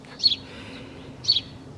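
A small bird near its nest gives two short, high chirps about a second apart, faint against a low outdoor background hum.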